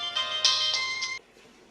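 A mobile phone ringtone plays for about a second, a bright tonal electronic melody in a small room, then cuts off abruptly into quiet.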